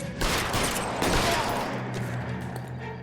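Gunfire in the video game LA Noire: a loud, dense burst of overlapping shots rolling into a reverberant tail, close and continuous for a few seconds before easing off.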